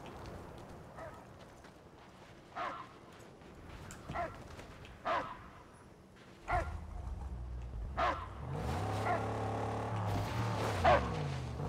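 A dog barks in the Mad Max video game, several separate sharp barks and yips spaced out over a quiet background, with a low rumbling engine-like drone joining toward the end.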